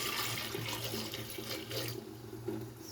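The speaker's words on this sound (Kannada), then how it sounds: "ಅದಕ್ಕೆ ನೀರು ಹಾಕ್ಕೊಳ್ಳೋಣ" Water poured over four or five peeled potatoes in a pressure cooker, a steady close splashing rush that thins out after about two seconds, heard alone without talk.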